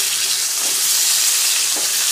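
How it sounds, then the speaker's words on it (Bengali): Meat fries lightly in a small amount of oil in a pan, giving a steady, close sizzle throughout with no voices. "মাংসটা হালকা হালকা ভাজা হয়ে গেছে"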